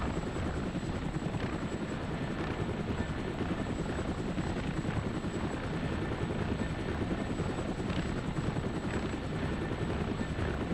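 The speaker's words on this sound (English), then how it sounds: "That rotor in the background." Helicopter rotor in Operation Flashpoint over an open desert, a continuous dense, loud rumbling chop that holds steady throughout with no pauses.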